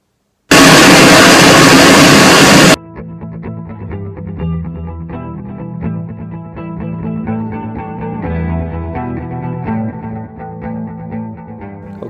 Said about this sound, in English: explain what pink noise sounds like